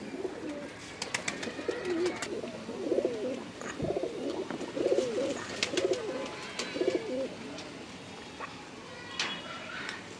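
Several Punjabi Malwai pigeons coo in soft, repeated rolling phrases nearby, with faint clicks and background rustling.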